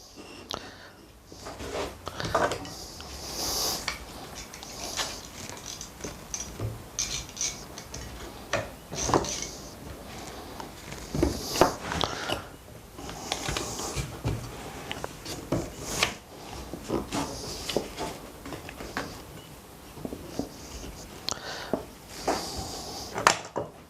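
Wood pieces for a pocket hole joined table are clamped down, a series of close wooden knocks, clicks of clamp mechanisms and rubbing scrapes at an irregular pace, no talking.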